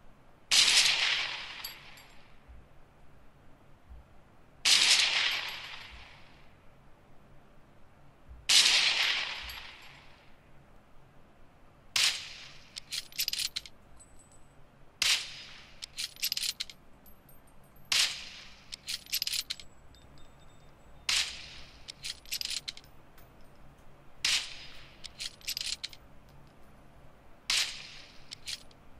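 Video game gunfire plays through SOUNDPEATS T2 earbuds: three heavy booming shots spaced several seconds apart, then a steady run of sharper, crisp single shots about every second and a half, with no talk.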